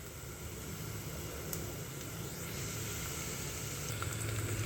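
Onions frying in a pan for a water chestnut sabzi give a steady, even sizzle, a continuous hiss that holds at an unchanging level throughout with no voices.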